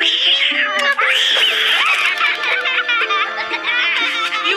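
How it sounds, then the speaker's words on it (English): A small cat meows and yowls repeatedly while being teased by girls, the cries loud and close over a busy, overlapping background. "You girls, stop tormenting that poor little kitty."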